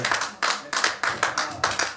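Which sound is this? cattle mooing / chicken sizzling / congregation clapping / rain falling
congregation clapping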